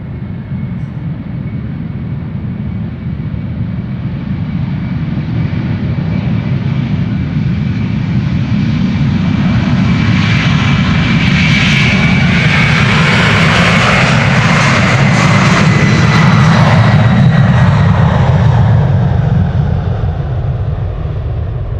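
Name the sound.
jet airplane engines during departure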